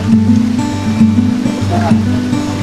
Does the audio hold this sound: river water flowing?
yes